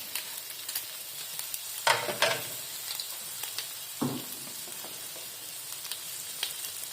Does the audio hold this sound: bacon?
yes